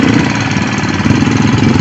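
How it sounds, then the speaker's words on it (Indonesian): A hand tractor engine chugs loud and close at a steady pace while pulling a levelling board across a field, with a continuous rattling, knocking drone. "hand traktornya menarik sebilah"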